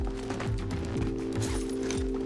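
Armor plates being fitted by players in Call of Duty Warzone: a repeated mechanical clicking and ratcheting, several metallic clunks at a steady rhythm over a low constant game drone, with no talk.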